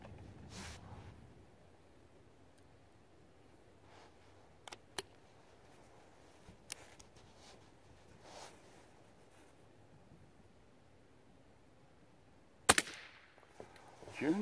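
A very quiet gun, softer than a BB gun, fired outdoors, giving a few faint, sharp snaps spread apart over a hushed background.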